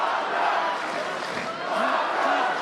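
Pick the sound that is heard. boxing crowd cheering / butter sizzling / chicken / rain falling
boxing crowd cheering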